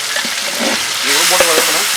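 Curry leaves sauté in a hot pan for egg masala curry, giving a bright, continuous sizzle that swells midway, with a voice speaking over the frying.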